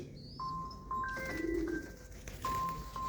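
Pigeons perched on a house rooftop give soft, low cooing calls close by, with a few thin whistles and chirps from other birds in the quiet background.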